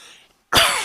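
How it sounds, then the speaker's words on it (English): A single loud, close cough bursts out after a brief silence, harsh and breathy, preceded by faint low murmuring. "I'm trying to cough away from my mic"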